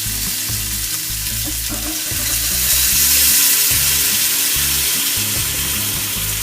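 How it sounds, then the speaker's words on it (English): Water poured into a hot pan of crispy frying prawn dumplings sets off a loud, crackling sizzle that builds and hisses steadily throughout. "Now I'm going to add water."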